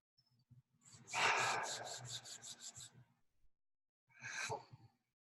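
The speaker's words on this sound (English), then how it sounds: "Before I inhale it, I'm going to rub it all over my face." Rose essential oil being rubbed over the face with the hands, a close, soft rasping friction that pulses in a run of quick strokes, goes quiet, then returns in one short burst with breathy exhales.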